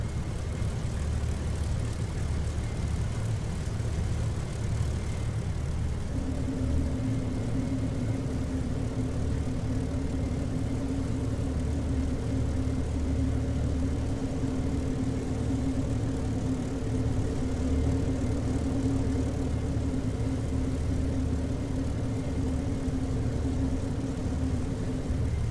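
An aircraft engine idles during refueling in the DCS flight simulator, a constant low drone that later gains a steady tonal hum and continues evenly for the whole stretch.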